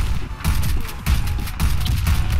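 Rapid gunfire from an online shooter video game crackles in quick bursts of several shots, loud and close over a busy noisy background, with no talk.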